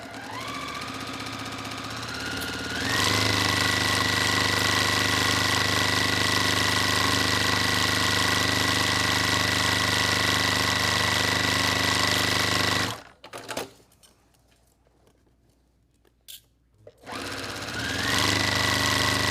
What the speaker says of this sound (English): Okay, so now we're going to sew.